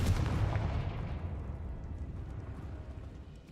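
A Confringo fire-blast spell goes off in the video game Hogwarts Legacy, a loud booming explosion with a rumbling low-end tail that slowly fades over a few seconds, with no talking over it.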